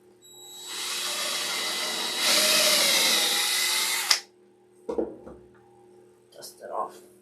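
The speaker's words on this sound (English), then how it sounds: "let me just drill a hole in here first" A power drill bores a hole into a wooden base for a door-knob hanger, a loud whine lasting about four seconds that rises in pitch partway through, followed by a few light knocks as the piece is handled.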